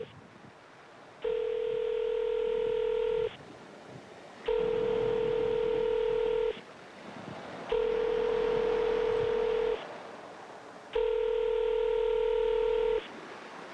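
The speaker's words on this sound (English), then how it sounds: "Listen to the phone ring" A telephone line gives four evenly spaced ringback tones, each about two seconds long with short pauses between them, clear and loud over faint background noise.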